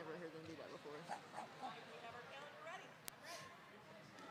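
Members of a roller derby team at a bout bark in short, yipping bursts like dogs, several voices imitating the sound close by, mixed with crowd chatter and talk.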